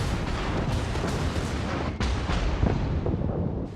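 Battleship main guns fire in the naval combat game World of Warships, heavy rumbling blasts over a dense, continuous roar of battle, with a sharper boom near the middle and loud throughout.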